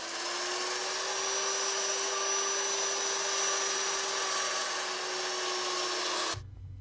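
A constant high whine of a spinning wood lathe with a gritty sanding hiss over it as a turned box is sanded, running steadily before cutting off abruptly at the end.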